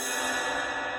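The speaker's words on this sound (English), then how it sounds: "If you hit where the logo is," A drumstick strikes a jazz cymbal near the logo, leaving a sustained, bright wash that rings evenly and faintly through about a second, with no voices heard.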